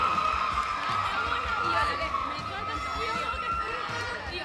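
Studio audience on a televised school quiz competition breaks into sustained applause and cheering, a dense crowd roar with children's voices mixed in, steady and fairly loud for several seconds.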